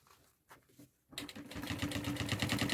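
A sewing machine set to a topstitch, using a size 21 needle, stitches a bag seam, starting after a few soft handling noises and then running in a fast, even mechanical patter.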